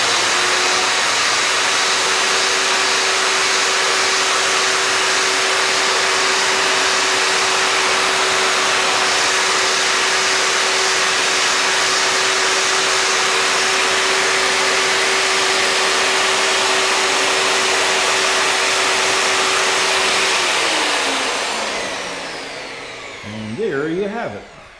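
A portable electric pipe threading machine runs with a steady, loud motor whine and a constant tone, then winds down near the end with some clatter.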